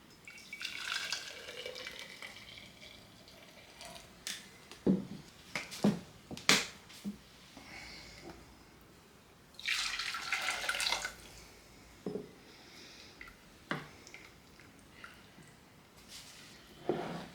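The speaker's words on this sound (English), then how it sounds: "I want to add about 2 cups of our cashew milk." Cashew milk pours into a vegan pumpkin spice coffee creamer mix in a brief splashy burst, set among scattered clicks and small drips in a quiet kitchen.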